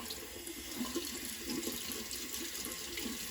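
Lukewarm tap water runs steadily into a sink while makeup brushes are being cleaned, a constant rushing stream that stays even throughout with no talking.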